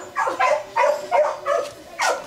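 Three white bobtail puppies give a quick series of six short, high yips and whimpering barks, evenly spaced and close, with no talk over them.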